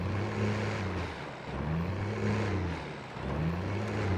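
GMC truck engine in GTA 5 revving in repeated swells, deep throaty drone rising and falling about three times, fairly loud and close with no talking.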